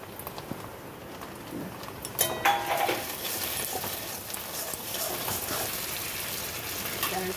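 Chopped onions frying in a pan with ginger garlic paste just added for a dal fry, giving a steady close sizzle with a sharp burst around the addition and scraping stirs throughout.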